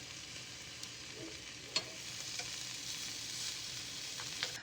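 Turkey Spam slices frying in a pan give a faint, steady sizzle and crackle, with one sharper tap partway through and no voices.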